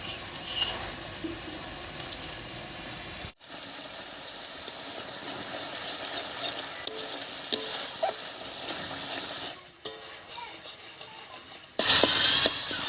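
A spice paste with cumin, salt and turmeric is fried and stirred in a pan for a cauliflower and soybean dish, giving a steady broad sizzle with scraping and brief breaks, and no voices.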